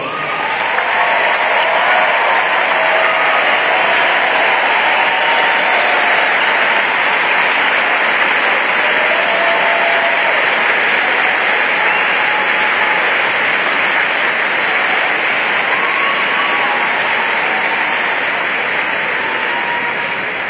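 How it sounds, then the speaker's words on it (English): Rally crowd in Erie, Pennsylvania applauding veterans: loud, sustained clapping and cheering that fills the space evenly for about twenty seconds. "Let's give you all a round of applause."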